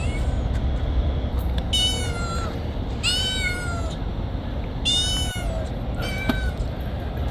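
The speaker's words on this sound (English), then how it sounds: "Remember before when I said I heard a cat?" A cat meows several times at a steady pace, some calls long and drawn out, over a low background hum.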